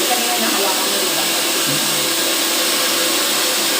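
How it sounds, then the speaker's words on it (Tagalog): A hair dryer blows steadily at close range to melt the bonds of hair extensions, a continuous broadband whoosh that holds level for the whole stretch with no break. "Kailangan mo sa i-blower para mag-melt"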